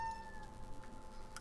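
A cat meows once in a game scene about building a car, faint and brief against a low steady hum, with no one talking.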